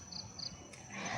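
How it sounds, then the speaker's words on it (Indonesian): Crickets chirp in short high trills, two bursts close together, faint and steady against a quiet ambient background during a calm yoga session. "Ada suara-suara jangkrik di sini."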